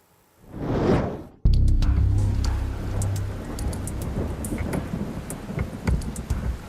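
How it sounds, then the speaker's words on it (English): Heavy rain pours down on a rural road, opening with a rising whoosh and then a sudden loud crash of thunder that settles into a steady, close downpour. "When it rains, it pours on Cedar Creek Road."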